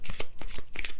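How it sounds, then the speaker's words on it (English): A deck of tarot cards being shuffled by hand, a rapid series of papery riffles and soft flicks in close succession, near and fairly loud with no talking. "Look at the cards as I'm shuffling them"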